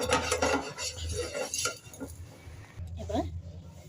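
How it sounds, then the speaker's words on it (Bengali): Batter for kheersa patisapta is stirred with warm milk, a spoon scraping and clinking against the bowl in close, uneven strokes while someone talks over it. "ভালো করে গুলিয়ে নিব হালকা গরম দুধ দিয়ে নিয়েছি"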